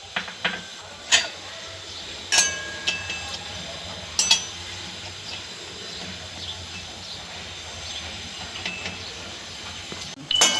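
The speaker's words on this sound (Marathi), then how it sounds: "हे स्पेशल काजू यात आपण परतून घेणार आहोत" Special cashews sautéing in a pan give off a soft, continuous hiss, broken by a few sharp clinks and scrapes of a utensil against the metal.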